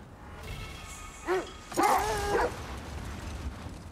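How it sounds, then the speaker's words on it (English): Sled dogs in God of War Ragnarok barking and yipping in a few short bursts around the middle, moderately close over a steady low ambient rumble, with no talking. "I hear you, puppies. We're heading out now."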